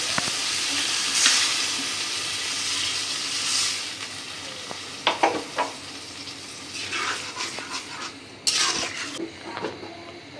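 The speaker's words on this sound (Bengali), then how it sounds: "ডিমটা কষানো হয়ে গেছে এখন জল দিয়ে দিব" Water poured into a hot pan of sizzling egg curry, a sharp hiss over steady frying with scattered clinks and scrapes of a spoon against the pan, close and moderately loud with no talking.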